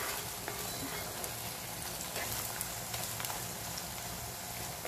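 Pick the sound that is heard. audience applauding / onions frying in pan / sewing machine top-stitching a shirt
onions frying in pan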